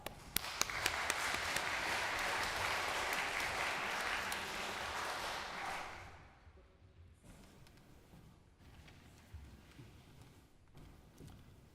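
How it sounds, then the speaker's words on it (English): Audience applause at a school cultural arts festival, loud dense clapping for about six seconds before fading into scattered claps and room noise. "Let's give them a big round of applause."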